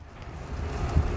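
Strong gusting wind in the Desert Southwest roars steadily across the microphone, a dense low rumble that swells toward the end, with no voices.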